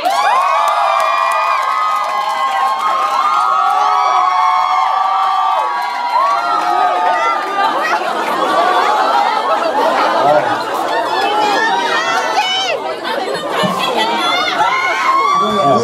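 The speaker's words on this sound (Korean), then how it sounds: "박수." A crowd at a rock concert cheers, whoops and claps steadily, with shouting voices layered densely over the noise throughout.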